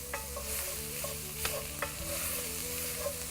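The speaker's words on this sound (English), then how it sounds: "Give it a little bit of a stir." A sauce base with mustard is stirred in a cooking pan, a soft steady sizzle broken by a few sharp scrapes and clicks of the utensil against the pan.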